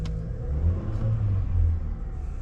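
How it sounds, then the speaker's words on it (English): Engine of a 2024 Chevy Blazer idling just after starting, a steady low rumble with slight swells in level, close and continuous with no talking. "Try to start the car."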